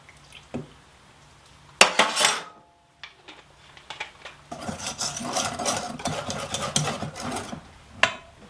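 Muffin batter for flourless chocolate muffins is stirred in a bowl with a spoon, producing a clink, then a quiet gap, then a stretch of scraping and tapping against the bowl, close and fairly clear.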